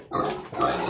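A farm pig in a pen lets out two close, loud grunts in quick succession, raspy and nasal, with no talking.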